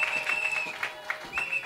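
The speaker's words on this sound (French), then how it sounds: "Est-ce que tu peux applaudir le Seigneur?" Congregation applauding during a French church sermon, a short burst of scattered clapping with a few louder claps standing out, moderately distant, over a steady background tone.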